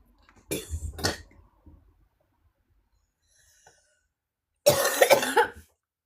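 Three coughs from one person indoors: a quick pair close together, then a single harsher one a few seconds later, with near silence between them.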